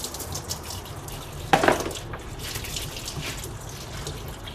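Transmission fluid trickles and drips from a loosened pan under a 2005 Dodge Ram 2500, a faint steady patter of liquid with one brief louder splash partway through, close by in a quiet garage.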